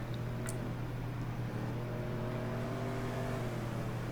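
A steady car engine drone in GTA V with a low hum and rising harmonic whine, continuous and fairly loud throughout, like a car idling and revving slightly.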